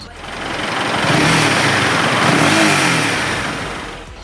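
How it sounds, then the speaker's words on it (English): A Honda CB300R 300cc street-fighter motorcycle revs its throaty exhaust, the engine note swelling up loud and close, holding high, then easing back down across a few seconds. "the exhaust also sounds quite throaty"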